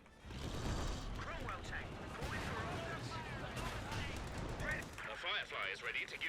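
Distant, muffled gunfire and explosions from a 4v4 Company of Heroes 2 battle on the White Ball Express map, a continuous rumbling clatter of shots and blasts with a voice talking over it.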